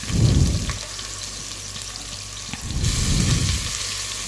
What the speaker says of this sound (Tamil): இந்த வெங்காயம் நல்லா வதங்கணும். எண்ணெயிலே நல்லா வதங்கட்டும்.